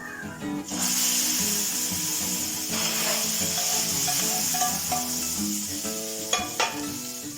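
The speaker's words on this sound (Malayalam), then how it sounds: "കടുകൊക്കെ പൊട്ടി നന്നായി ഫ്രൈ ആയി നമുക്ക് വറുത്തിടാം" Mustard seeds, shallots and curry leaves sizzle in hot coconut oil, a loud steady frying hiss with light crackles and a few sharp pops near the end, with no voices.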